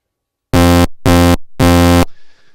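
Three loud, harsh buzzing SyncBuzzer synth tones made in maxYMiser, with a chiptune edge and extra high harmonics, each about a third of a second long and separated by short gaps, then a faint fading tail.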